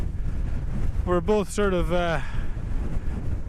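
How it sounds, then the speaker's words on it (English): Strong wind buffets the microphone on an open hillside, a continuous low rumbling roar that runs throughout, with a short spoken phrase heard over it. "it is ridiculously windy"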